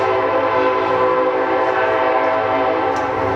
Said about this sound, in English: we'll wait till the train goes by